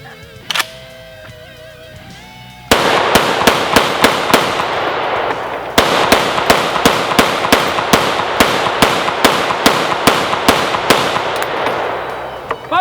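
Century C308 rifle firing repeatedly in quick succession, about twenty sharp, loud, closely spaced shots in rhythmic bursts with a short pause partway, close by and with no talk over them.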